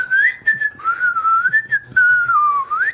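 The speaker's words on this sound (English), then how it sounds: "I don't whistle, but I can whistle better than that." Someone whistles a meandering melody up close, notes gliding up and down continuously with a couple of short breaks, steady and fairly loud with no talk.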